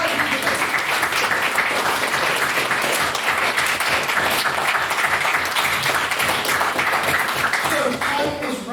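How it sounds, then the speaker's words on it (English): An audience at a debate applauds its speakers, with a dense, even round of clapping that runs continuously for most of the time before thinning out at the very end. "I'd like another round of applause for all of our speakers"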